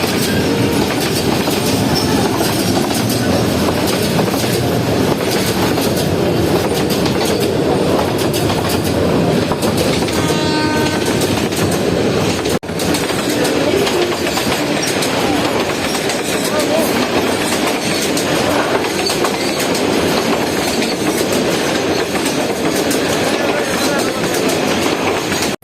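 A passing train rumbles steadily with rhythmic clickety-clack of wheels over rail joints, loud and close, with a brief high horn or squeal midway and a faint voice underneath.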